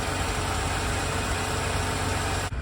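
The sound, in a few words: V6 gasoline truck engine idling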